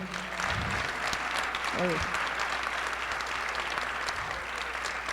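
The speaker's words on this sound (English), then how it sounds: "So give him a round of applause" A town hall audience at a congressional health care policy meeting gives a round of applause, a steady crowd clapping at moderate distance with a few brief voices rising through it.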